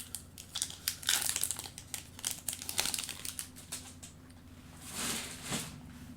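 Foil wrapper of a 2019 Bowman trading card pack being torn open and crinkled by hand, close and fairly loud, with bursts of crackling tapering into softer rustles.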